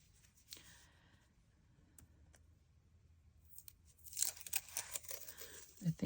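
A strip of masking tape torn by hand: quiet rustling at first, then a faint, close, crackly ripping burst toward the end.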